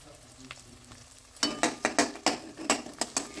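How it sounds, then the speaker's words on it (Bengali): Onion, garlic and green chilli fry in a pan, a quiet hiss at first, then a spatula stirs them in a quick, regular run of loud scraping strokes over the sizzle. "এবার পেঁয়াজ, রসুন আর কাঁচা লঙ্কা একসাথে আরও কিছুক্ষণের জন্য ভেজে নিতে হবে।"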